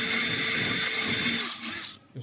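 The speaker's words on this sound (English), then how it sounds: "If they're a bit tight, you might just have a bit of a drill." A power drill bores into a pressed rivet nut, a high whining buzz held for nearly two seconds before the motor winds down and stops.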